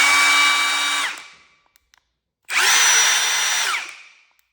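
A Milwaukee Fuel impact driver spins freely in two loud, close bursts of high motor whine, each about a second long and winding down, separated by a short silence.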